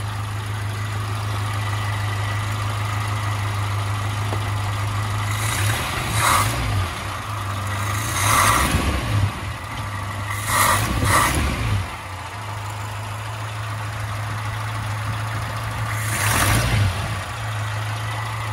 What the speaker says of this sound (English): but we got an engine running. It runs real quiet.